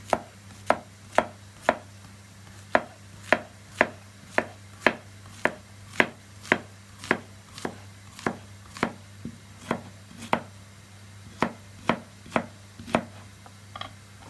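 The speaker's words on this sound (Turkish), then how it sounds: "Kabaklarımı şu şekilde yuvarlak doğrayacağım." A knife chops steadily against a cutting board, slicing zucchini into rounds, about twenty crisp, evenly spaced strikes over a quiet background with a faint low hum.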